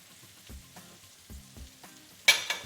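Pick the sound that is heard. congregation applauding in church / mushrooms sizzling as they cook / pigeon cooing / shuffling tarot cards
mushrooms sizzling as they cook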